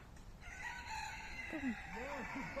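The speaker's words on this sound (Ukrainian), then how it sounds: "які гарні тут пташки голосно так співають" Roosters crow and hens cluck nearby, several loud bird calls overlapping against steady outdoor background noise.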